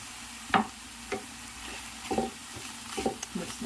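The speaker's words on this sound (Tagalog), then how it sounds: "Mix natin ito guys." Paprika, black pepper, baharat and turmeric are stirred in a pan while cooking sambosa filling, heard as a few short, separate scraping strokes of a spoon against the pan, close and moderately quiet with no talk.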